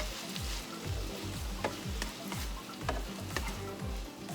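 Fresh chili peppers cook in black bean sauce for fried milkfish, giving a steady close sizzle and fry with repeated scraping stir strokes and a few sharp clicks of a utensil against the pan.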